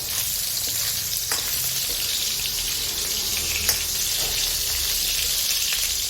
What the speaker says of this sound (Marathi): मस्त असं पनीर गोल्डन फ्राय करून घेतो